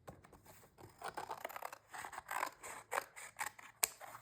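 Scissors snip through paper in a quick run of close, crisp cuts, the blades rasping and clicking in short uneven strokes that end with a sharper final snap.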